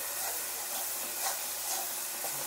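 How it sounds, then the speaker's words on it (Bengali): Ginger-garlic paste fries in a pan while being stirred, a steady bright sizzle and hiss close up, with faint scraping stirs pulsing through it. "আদা রসুনটা একটু ভেজে নেব ভালো করে"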